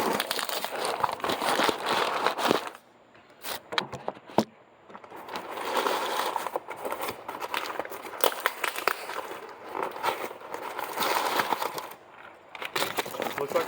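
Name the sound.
opening a cardboard box containing a micron filter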